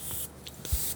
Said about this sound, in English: I'm going to go ahead and start spraying.